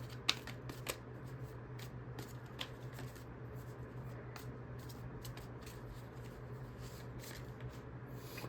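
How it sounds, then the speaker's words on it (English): Tarot cards are shuffled by hand with quick, soft riffling and flicking at close range, a faint steady papery texture running through the whole stretch. "I want to pull a couple of these other cards over here, too."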